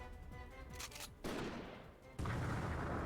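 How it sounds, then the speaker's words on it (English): A sudden gunshot rings out at the end of a quiet passage, loud and abrupt, followed by a sustained blast-like roar. "There's a sudden gunshot, and Nyuntut is caught in an explosion."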